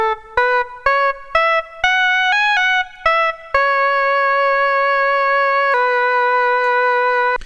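A bright Serum synth lead plays the melody of a song on its own: a run of short, clipped notes, then one long held note that shifts pitch. The tone is loud, clean and harmonically rich, with no voice present.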